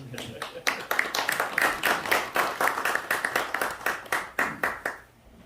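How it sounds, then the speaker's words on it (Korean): A small church seminar audience claps to welcome a pastor, with a smallish group producing fairly rhythmic, distinct hand claps that stop abruptly after about five seconds. "우리 뜨거운 함성까지 있는 그대로 박수로 환영하도록 하겠습니다."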